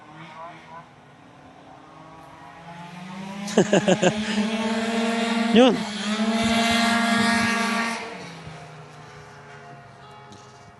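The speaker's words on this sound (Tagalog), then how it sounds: "may karera ng motor oh" Motorcycles racing by on a road, a loud engine whine rising and swelling from about 3.5 s, peaking near 6 s and fading by 8 s, heard under wind noise with brief talk before it.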